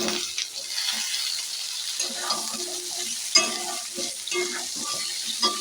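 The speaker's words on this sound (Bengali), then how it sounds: "বেশ খানিক্ষণ নাড়াচাড়া করে পেঁয়াজ দিয়ে আলুটা বেশ ভালো করে আমি ভেজে নেব" Sliced potatoes and onions being stir-fried in a hot pan with oil, a steady sizzle broken by scraping and clattering of the spatula as the mix is tossed, close and alone with no talk.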